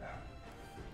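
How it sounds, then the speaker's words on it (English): Dogs bark in a short burst, quiet and slightly distant, with a few yips. "The dream dogs are barking."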